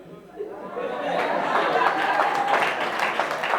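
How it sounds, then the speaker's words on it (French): Wedding guests at a civil marriage ceremony in Libreville applaud, a dense wash of clapping swelling in after a quiet start and holding steady, mixed with crowd chatter and a little laughter. "les gens applaudissent"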